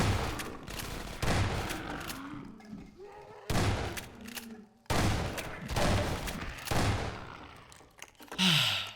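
Shotgun in the video game Half-Life 2 Episode One, firing several heavy blasts at irregular intervals, each a loud, close boom with a decaying tail, with a faint voice murmuring between shots.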